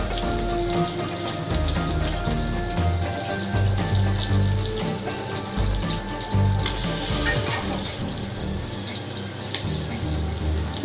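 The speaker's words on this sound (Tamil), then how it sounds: "மீடியம் ஃப்ளேமில் தான் வச்சு மீனை வந்து பொரிக்கணும்." Snakehead fish frying in oil over a medium flame, a steady dense crackle and hiss running continuously and fairly loud throughout, with no voices over it.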